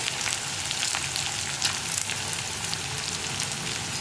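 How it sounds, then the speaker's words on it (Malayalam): Onion, green chili and curry leaves sizzle and fry in coconut oil for a chena masala curry, a steady close crackle with faint stirring and no voices. "ഇനി സവോള ഒന്ന് നന്നായിട്ട് വഴറ്റിയെടുക്കുക"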